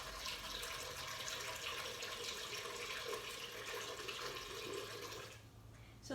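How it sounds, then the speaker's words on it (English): Water pouring steadily into an Instant Pot liner, a continuous close splashing flow that runs for about five seconds before tapering off near the end. "So they said to put a cup of water in it."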